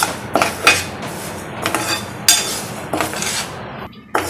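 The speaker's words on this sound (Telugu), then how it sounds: "స్టవ్ మీడియంలో పెట్టుకొని వేయించుకోవాలండి." Moong dal is being dry-roasted in a metal pan on a stove over medium heat. A spoon clinks and scrapes against the pan in irregular strokes while the lentils are stirred.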